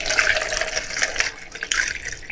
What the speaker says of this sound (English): So I'm just going to pour